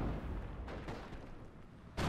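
A Steel Division: Normandy 44 tank battle, with a Panzer IV firing on an Achilles, delivers a deep muffled boom and rumble that fades over two seconds before a sharp new blast cuts in at the end.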